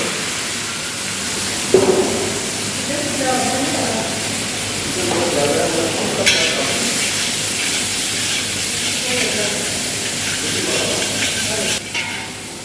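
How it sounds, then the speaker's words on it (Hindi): Masala sizzling and hissing in a little oil in a pan for chicken do pyaza, a steady close frying sound with a few stirring scrapes and occasional clatter underneath. "अभी मसाला पक गया, इसको हम इसमें हल्का सा तेल में इसको सौटे करेंगे।"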